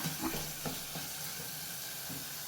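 Tomatoes sautéing in a pan for rasam over a raised flame, a steady close sizzle with a few soft stirring scrapes, no voices.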